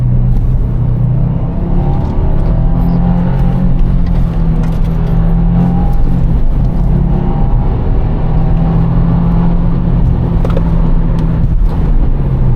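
A 2023 Subaru WRX engine holding second gear through a tight turn, a steady, loud low drone heard from inside the car, continuous and without talk.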